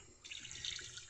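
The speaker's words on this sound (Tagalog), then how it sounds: "lagyan natin ng tubig" Tap water runs into a cooking pot as water is added for cooking, a steady close splash starting after a brief pause and continuing with no voices.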